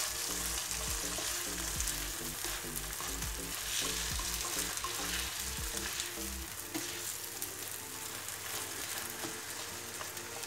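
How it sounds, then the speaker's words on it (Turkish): Drained rice stirred and sautéed in a pan for a green bean dish, sizzling in fat with a continuous crackle while a utensil scrapes and clinks in uneven strokes, close and fairly quiet, with no talk. "Pirinçleri ekledim ve yavaş yavaş şimdi pirinçlerimi karıştıracağım."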